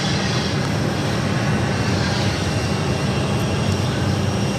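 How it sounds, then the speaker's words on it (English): A Porter Embraer E2 airliner arriving on runway 8 at Phoenix produces a steady, broad jet roar that lasts throughout without letting up, moderately loud and distant, with no speech. "Just at Porter, the E2 arriving on runway 8, coming in from Toronto."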